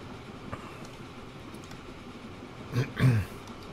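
Train running in the video game Transport Fever 2, a low rumbling rail drone with a couple of short louder clattering swells near the end, heard alone.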